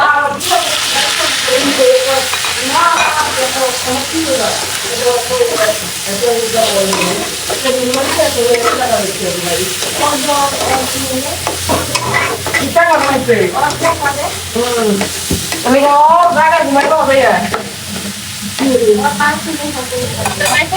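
Spice paste and malabar spinach greens stir-fry in a pan with a loud, sputtering sizzle and repeated scraping, while a person talks over the cooking throughout.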